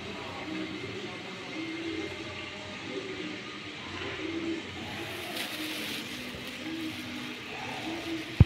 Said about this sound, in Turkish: Kuş sesleri. Kuşlar burada su içiyor.